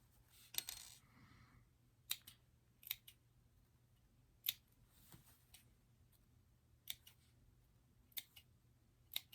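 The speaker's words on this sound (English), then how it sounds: "you're going to trim around the outside of the top" Scissors snipping fabric around the edges of a sewn doll top, a series of sharp, quiet metallic clicks spaced irregularly over a faint background hum.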